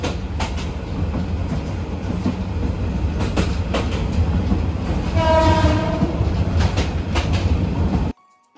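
A train pulls into Laksam junction with a continuous rumble and clatter of wagons, and a loud horn blast sounds midway before the sound cuts off abruptly.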